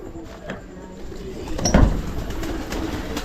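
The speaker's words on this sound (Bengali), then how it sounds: "তা আপনারা দেখতে পাচ্ছেন আমার এই কবুতর।" Pigeons coo on a house rooftop, soft low throaty calls under a rumbling background, with a louder thump and rustle midway; no words are spoken.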